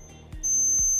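A sharp, high electronic beep starts abruptly and holds steady, with a soft click just before it begins.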